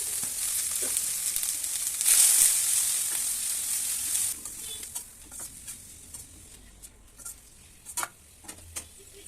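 Cut cabbage is tossed into a pan of fried onions and curry leaves, setting off a loud hissing burst that settles into a quieter sizzle dotted with scattered stirring clicks.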